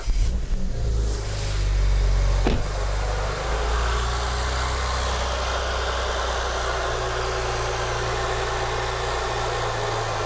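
A BMW E90 fitted with dual cone intakes cranks, fires and revs briefly before settling into a steady, loud idle with rushing intake air, close to the engine bay.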